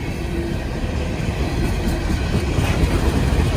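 Norfolk Southern coal cars rolling past on the rails of a domestic coal train, a steady, loud, continuous rumble with a faint rhythmic clatter building slightly toward the end, no voices.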